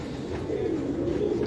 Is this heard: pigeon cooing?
yes